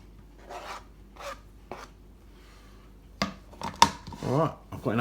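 Beef being finely sliced for noodle soup with a knife on a board, heard as a handful of separate rasping cuts, then a quicker cluster of louder chops and scrapes near the end, with no voices.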